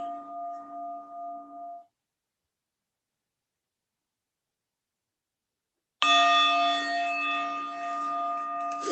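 A meditation bell rings at a Buddhist practice session: a short sustained tone fades after about two seconds, then after silence a louder, bright bell strike rings out with long overtones.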